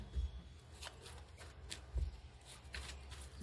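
A deck of tarot cards being shuffled by hand, soft riffling flutters with a couple of dull thumps as the cards are tapped together, close and fairly quiet.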